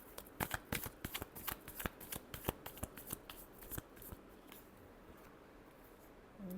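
Tarot cards being shuffled by hand in a quick run of crisp riffling flicks, close and fairly soft, tapering off toward the end with no talking.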